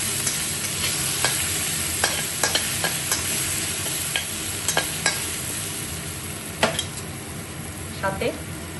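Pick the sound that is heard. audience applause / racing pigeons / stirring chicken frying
stirring chicken frying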